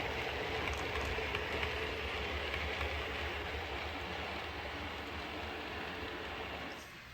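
A model train runs steadily along its track with a continuous rattling whir that fades slightly near the end.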